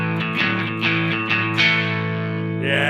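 Electric guitar through a Universal Audio Enigmatic '82 Overdrive Special pedal plays a short gritty phrase of several picked notes, ending on a sustained distorted chord.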